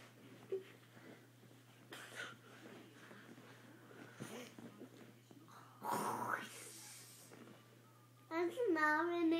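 A child makes pretend snoring sounds, soft breathy rasps repeated through a quiet room, then gives a louder burst and a sung, voiced ending; the child imitates the snoring by voice.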